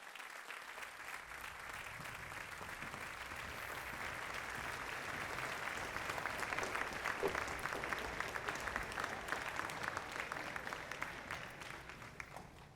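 Steady audience applause at a jazz talk, dense clapping sustained throughout at a fairly even level, swelling slightly toward the middle before easing off at the end.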